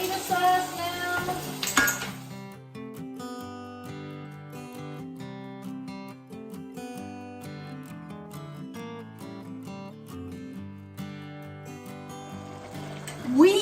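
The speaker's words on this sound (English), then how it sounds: "We're putting the tomato sauce now." Steady sizzling and frying in a pan as tomato sauce is added for vegetable pasta, with a brief louder splash near the start and end, and music playing underneath throughout.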